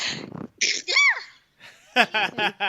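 A voice speaks briefly, then a single sharp sneeze bursts out, followed by a pause and a few quick breathy vocal sounds.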